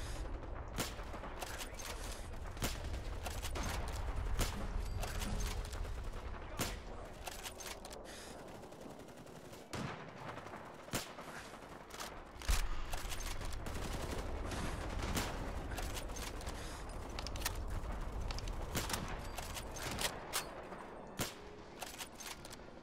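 Repeated gunfire from the video game Fallout 4, many sharp shots and rapid bursts spread through the stretch over a low steady background rumble, with no talk.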